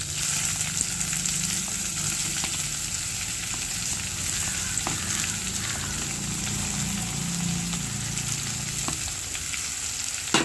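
Chopped onions sauté in a pan for a mutton curry with cinnamon, clove spice mix and curry leaves, giving a steady close sizzle with occasional light stirring clicks and no talking.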